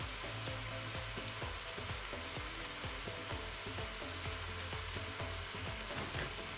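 Onions fry and brown in a salted pan, giving a steady close crackling sizzle with a dense run of small pops and occasional spatula taps throughout.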